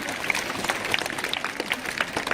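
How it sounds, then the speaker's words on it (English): An audience applauds the teachers at a school investiture ceremony, a soft, fairly distant wash of clapping with scattered sharper claps and faint crowd murmur underneath. "Give a huge round of applause for all the teachers who work for the beautiful presentation of the"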